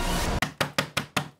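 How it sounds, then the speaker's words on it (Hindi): Five firm knocks strike a door in a crime-drama scene, evenly spaced and close, following a brief burst of noise, with no talk over them. "चंदा, चंदा, अरे जवाब तो दे, उठ ना, दरवाजा तो खोल।"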